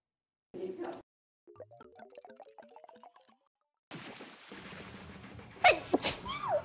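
A single person sneezes during a live Splatoon gaming stream, a brief burst near the end following quieter breathy sounds and moments of silence.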